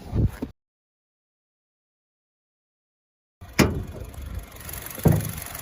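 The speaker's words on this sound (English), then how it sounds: "And now shall we open the hood of this car, which is the heart of the matter." The hood of a Honda City sedan is opened, leaving a long silent stretch followed by two distinct close clunks of the latch and lid, with faint handling noise between them.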